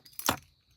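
Keys for a 2025 Ford Everest jangle in one brief, close metallic shake that fades quickly into quiet.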